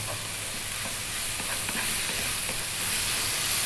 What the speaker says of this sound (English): we're going to continue on a high heat for 2 to 3 minutes, stirring pretty much all of the time here